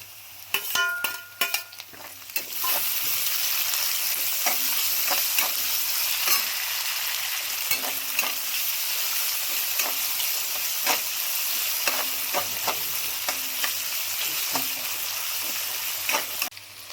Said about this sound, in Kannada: ಈಗ 3ರಿಂದ 4 ನಿಮಿಷ ಎಣ್ಣೆಯಲ್ಲಿ ಈರುಳ್ಳಿ ಫ್ರೈ ಆಗಿದೆ. ಈಗ 2 ಟೊಮಾಟೊ,